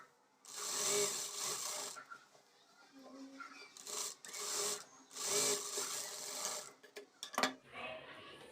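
A sewing machine stitches a blouse dart, running in several bursts of a few seconds each with short pauses between, close and moderately loud.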